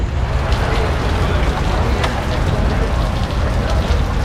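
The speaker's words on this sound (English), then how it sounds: "It's raining, and I'm so stoked about that." Steady rain patters and hisses, a dense, even wash of drops filling the whole stretch with no pauses.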